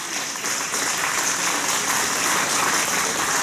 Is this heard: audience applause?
yes